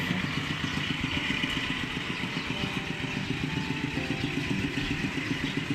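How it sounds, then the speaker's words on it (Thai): A small two-wheel farm tractor engine passing a house chugs steadily with a rapid, rattling putter, staying fairly close and constant throughout. "จะมีรถไถวิ่งผ่านหน้าบ้าน"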